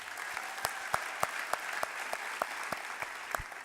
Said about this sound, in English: Let's give everyone that presented today a round of applause for all this hard work.